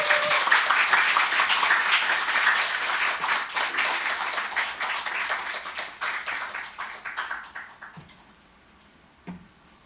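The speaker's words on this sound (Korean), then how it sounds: "큰 박수로 격려해" Applause from a church congregation at a Sunday worship service, welcoming a testimony speaker: dense clapping that starts loud and thins out over several seconds before a few last claps.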